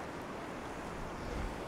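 Sea waves rolling onto the rocky shore near Cwyfan Church on the Welsh coast, a steady low surf roar with some wind buffeting, continuous and fairly faint with no voices.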